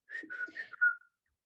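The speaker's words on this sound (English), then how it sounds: "She whistles a call to the elephant." A person whistles a call to a baby elephant in darkness: a short run of bright, warbling whistled notes rising to a sustained louder final tone, heard close and alone.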